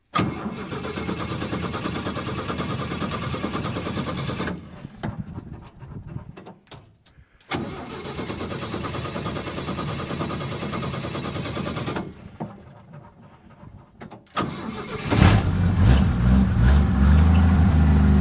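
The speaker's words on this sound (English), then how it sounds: "you guys watch the engine and see if it runs" A six-cylinder truck engine cranks in long grinding bursts separated by pauses, then catches and settles into a rough, rumbling idle close by.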